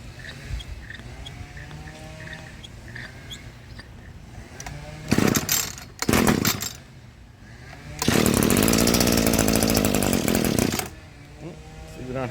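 An Echo stick edger's small two-stroke engine sputters through short starting bursts, then catches and runs loudly at a steady high rev for a few seconds before dropping back.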